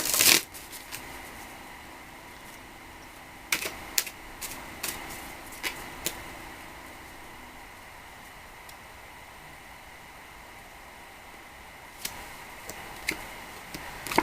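Quiet, steady tarot card shuffling with soft ticks and occasional sharper snaps, close by over a faint hiss, with no voices.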